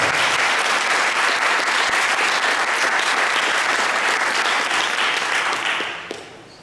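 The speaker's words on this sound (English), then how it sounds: "if we could give all three of our candidates a great big round of applause" An audience gives a big round of applause for three election candidates at a candidate night, loud, dense clapping sustained for several seconds before tapering off at the end.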